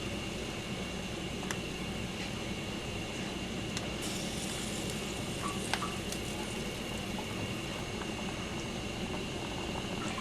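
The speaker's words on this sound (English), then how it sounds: "When my water's boiling, I'll drop my gnocchi in one at a time." A pot of water at a rolling boil for cooking pumpkin gnocchi, bubbling and churning steadily and fairly loud, with a few light clinks and taps over the constant seething.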